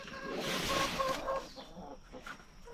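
A small rooster and hens in a backyard flock cluck nearby, a few soft repeated clucks and a short warbling call over faint outdoor noise.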